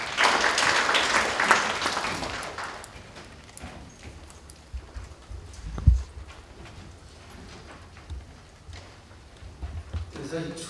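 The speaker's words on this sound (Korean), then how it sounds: "박수로 환영해 주시기 바랍니다." Audience at a policy discussion forum on handset subsidy caps applauding to welcome a commissioner to the podium: a burst of many-handed clapping at the start that thins into scattered claps and footsteps, with a voice speaking over it.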